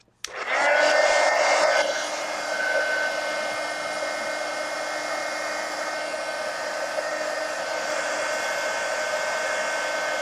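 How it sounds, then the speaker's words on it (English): A heat gun drying a mixed-media collage page in an art journal roars on after a click, a loud steady blowing whine that holds unbroken for ten seconds with no talk. "Heat gun."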